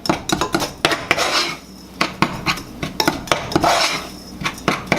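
Buttered topping being mixed in a metal bowl for mac and cheese, a spoon scraping and clinking against the sides in quick irregular strokes, close and loud with no talk.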